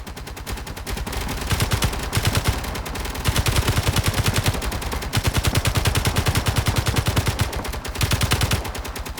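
Ship-mounted weapons fire at pirates in Space Engineers, rapid loud automatic bursts rattling in long stretches with short pauses between volleys, and no voices present.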